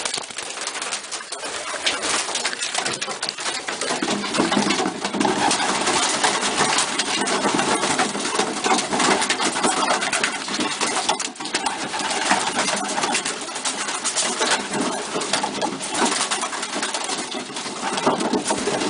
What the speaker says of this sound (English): Hand feeding your pigeons